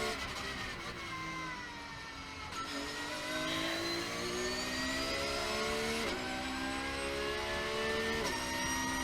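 A Porsche race car engine revs through a chicane, rising and falling harmonic whine with gear changes every few seconds, steady and moderately distant, no voices.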